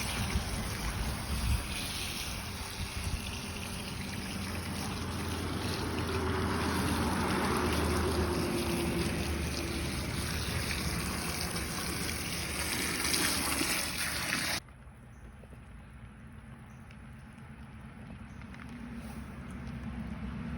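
Steady rushing water pours and splashes loudly and continuously over live crawfish being washed, then abruptly drops to a quieter background hiss near the end.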